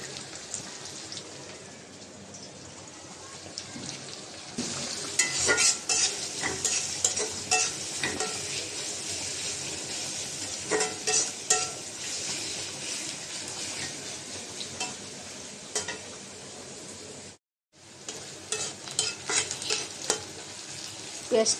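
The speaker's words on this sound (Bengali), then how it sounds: "পেঁয়াজটা হালকা ভাজা হয়েছে।" Chopped onion fries in oil in a wok with a steady, close sizzle and repeated stirring scrapes, and the sound cuts out briefly before the frying resumes.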